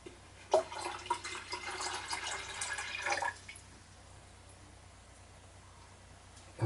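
Water is poured into an electric kettle from a jug, a roughly three-second splashing pour of about 500 ml, close and moderately loud, followed by near quiet.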